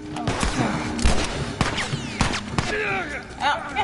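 Gunfire erupts in a tense zombie-outbreak scene of The Last of Us Remastered, with scattered sharp shots and bursts mixed among game noise and a voice speaking over the action.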